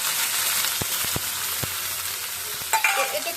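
Chopped onions fry in hot oil in a wok, a steady close sizzle with a few sharp knocks of a stirring utensil against the pan and a brief louder burst near the end.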